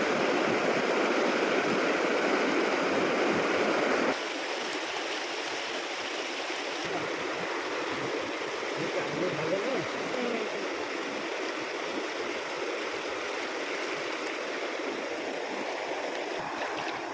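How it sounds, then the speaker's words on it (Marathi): Full-force river water rushing past a fishing dam, a steady loud broadband roar that drops to a somewhat lower continuous flow after a few seconds, with no voices. "इकडे आहे ना फुल फोर्सने पाणी आहे"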